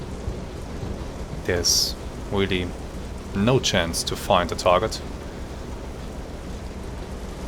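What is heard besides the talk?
rain in Silent Hunter 3 video game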